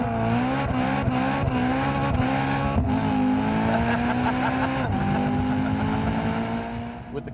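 A BMW M3 with Competition and M Performance packs revs hard and accelerates, its engine note climbing steadily and staying loud and close with a few brief dips between gear changes.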